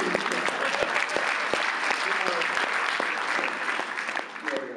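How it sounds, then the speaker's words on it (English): A convention panel audience at C2E2 2013 bursts into sustained applause, a dense, loud wash of clapping that holds steady before tapering slightly near the end. "Applause for a one-word answer."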